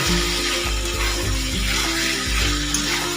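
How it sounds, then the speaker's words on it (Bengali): Fried potatoes and pointed gourd being stirred into hot spice paste in a pan, a steady close sizzle with soft scraping and stirring strokes running throughout, no talking. "এতে আমি দিয়ে দিচ্ছি ভেজে রাখা আলু এবং পটলগুলো এবং আলু এবং পটলটাকে মশলার সাথে কিন্তু ভালো করে নাড়াচাড়া করে নেব"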